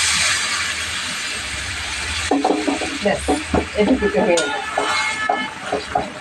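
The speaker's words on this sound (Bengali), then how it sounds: "এবার বন্ধুরা একটু জল দিই" Water added to a hot pan, a loud hiss of sizzling that gives way to stirring scrapes and bubbling, close up.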